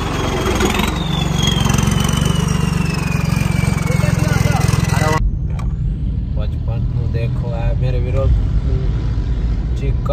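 A modified tractor engine runs with a loud, steady rumble, close by, and people speak over it.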